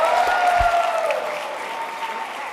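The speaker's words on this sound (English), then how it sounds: "Can we give them both a round of applause" Steady audience applause, moderately loud and even, with a faint tonal hum underneath that gradually eases off.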